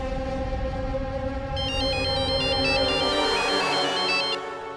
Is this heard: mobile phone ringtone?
yes